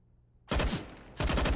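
Two loud rapid bursts of automatic gunfire in a Counter-Strike match on Mirage, the first spray after a brief silence and the second following a short pause.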